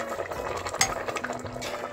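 A spoon scrapes and stirs grated bottle gourd halwa with sugar and cream in a pot over a village wood fire, a close, continuous swishing with a single sharper clink partway through.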